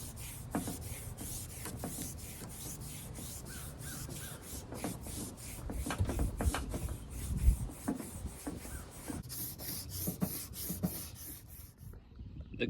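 A sanding block works over primer on a motorcycle batwing fairing, its repeated rasping strokes scraping back and forth steadily at close range.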